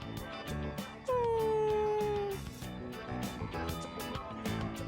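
A dog in the video game Persona 3 Reload lets out a long, drawn-out whine that falls slightly in pitch, clearly audible over steady looping background music.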